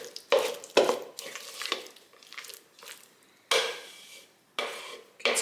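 A spoon stirs a Chex cereal mixture in a bowl, giving scattered scraping and clinking strokes in uneven bursts, close and fairly loud, with no one talking.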